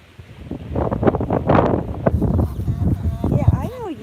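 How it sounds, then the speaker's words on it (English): Gusty wind buffets the microphone outdoors on a rural South Dakota farm, a steady low rumble beneath a person talking close by. "It's so windy, this stuff is blowing everywhere."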